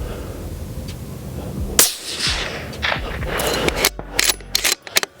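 Suppressed rifle fired with a Thunderbeast Magnus can and factory 140-grain ammunition, one muffled crack near the start, then bolt and mechanical clicks and handling noise at close range.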